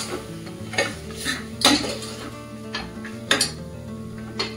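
Chicken bhuna masala being sautéed in a pan, with repeated sharp metallic clinks of a spoon scraping and striking the pan over a low background hum.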